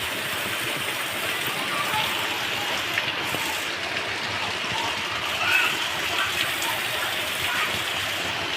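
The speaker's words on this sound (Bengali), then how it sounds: "দেখো প্রচণ্ড জোরে বৃষ্টি চলে এসছে।" Heavy downpour at a home during flooding, a dense, steady hiss of rain on surfaces that continues evenly throughout, with no clear speech.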